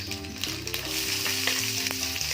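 Green chillies, onions and ginger fry in hot oil for masala paniyaram, giving a steady, close, fairly loud sizzle throughout with no talking.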